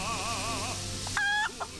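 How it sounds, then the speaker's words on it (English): A chicken clucking in the space survival game Breathedge, a short warbling series of clucks followed by a brief higher squawk, close and clear over a steady game hum. "No, that's the chicken."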